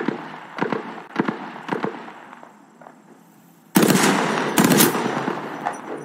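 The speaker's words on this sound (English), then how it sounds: "Shots fired at me." Gunfire in the video game Apex Legends: bursts of rapid automatic shots crack close and loud, first in short clusters and then in a dense sustained volley over a hissing game background.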